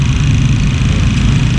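Idling engine of a Yamaha Beat FI fuel-injected scooter with a broken injector nozzle, stumbling at low RPM: a loud, steady, rough low rumble close by, uneven throughout, with no speech.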